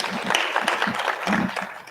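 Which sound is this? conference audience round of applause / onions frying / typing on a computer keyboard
conference audience round of applause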